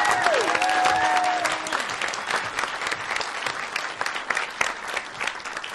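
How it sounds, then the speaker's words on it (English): A crowd at a startup demo day applauds the winner, loud and dense clapping that starts strong alongside a brief tonal musical sting, then continues and gradually grows more scattered. "Round of applause for the winner."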